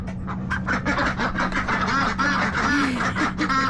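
A flock of free-range ducks quacks loudly and continuously nearby, the overlapping calls coming in quick, rapid bursts over a steady low hum.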